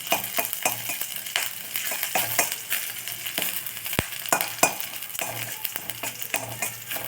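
Urad dal fries in hot oil with a constant crackling sizzle. A spoon stirs and scrapes against the pan in quick irregular clinks throughout.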